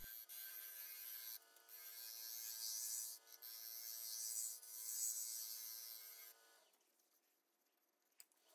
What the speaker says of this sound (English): And then I sanded again because, you know, everybody loves to sand.